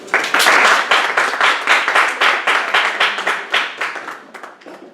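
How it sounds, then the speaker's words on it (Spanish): An audience at a talk claps loudly in a dense burst of applause that tapers off gradually over a few seconds, with a few scattered claps at the end. "Así que un fuerte aplauso para Mauricio."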